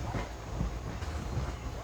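The Coimbatore–Mayiladuthurai Jan Shatabdi express rumbles into the other platform of a station, a continuous low train roar with rolling wheel noise.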